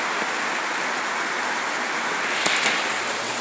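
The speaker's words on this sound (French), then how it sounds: "Et il mouille fort à part ça." Heavy rain falls outside in a steady, dense hiss that fills the whole stretch evenly, with a couple of slightly sharper patters near the end.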